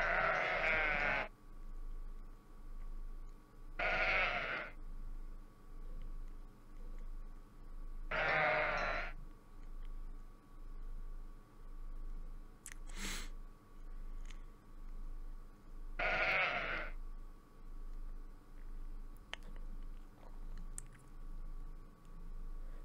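Sheep bleat in a math video game, four separate loud bleats spaced several seconds apart over a steady pulsing game background loop, with no talking.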